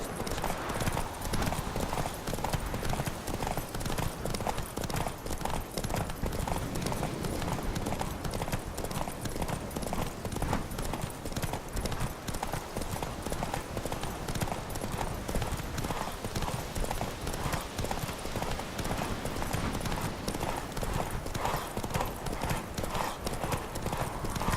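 Rapid, continuous hoofbeats of galloping horses in a race in The Witcher 3: Wild Hunt pound steadily throughout, loud and busy, with a faint voice now and then.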